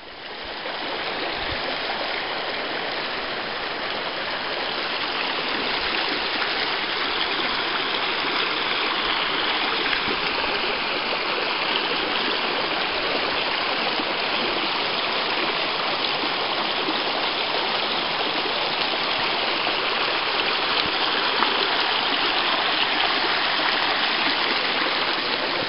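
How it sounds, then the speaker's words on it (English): Thirteen Falls on Franconia Brook, along the Franconia Brook Trail in the Pemigewasset Wilderness, gives a loud, continuous rush of tumbling water that holds steady throughout with no voices. "This is 13 Falls."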